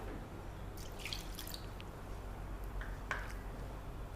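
Water pours into a cooking pan holding fresh mint leaves, a soft steady splashing and trickling with a few brighter drips, close by and without talk.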